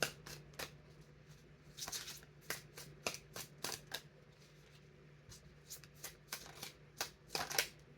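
A deck of playing cards being shuffled several times in quick riffles and riffs, crisp and close in a quiet room, with a faint steady hum underneath and no voices.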